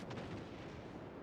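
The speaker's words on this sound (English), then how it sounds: "Shooting over the Iron Duke there." Naval gunfire from battleship guns in the game World of Warships, a low, rumbling boom of artillery rolling on at fairly quiet level, with no talking.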